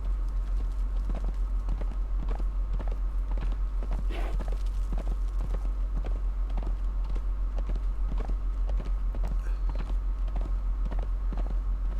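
Rhythmic clip-clop of horse hooves at a steady walking pace in the video game Conan Exiles, continuous and fairly close over a constant low hum with game-like ambience.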